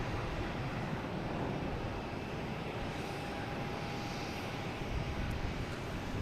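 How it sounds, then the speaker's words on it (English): An Embraer E175 jet arriving on runway 32 at Boston Logan, a steady broad engine roar heard from a distance, constant and unbroken, with no talking. "Here's another flight coming in from Asheville. E175."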